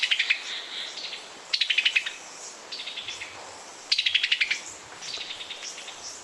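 A summer tanager gives repeated sharp chattering call phrases, several bursts of quick notes spaced a second or two apart, clear and fairly close in a quiet outdoor setting.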